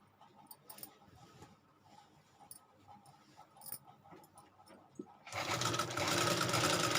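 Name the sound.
sewing machine stitching along the edge of a salwar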